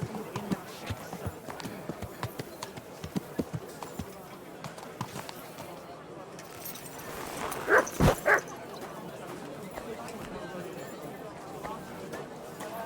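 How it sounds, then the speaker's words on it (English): A dog in the medieval town of Kuttenberg in Kingdom Come: Deliverance 2 gives a short burst of close barks amid town ambience, with people talking around it. "You silly mutt."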